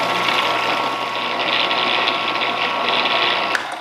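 Blender pureeing a bourbon steak skewer sauce, a steady loud whirring motor drone holding for several seconds, close up and alone.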